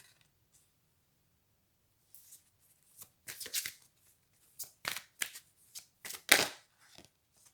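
Playing cards being shuffled and handled, a few soft riffling and flicking bursts after a quiet start, close and faint, with no talking.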